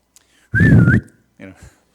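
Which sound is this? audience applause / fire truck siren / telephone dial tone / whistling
whistling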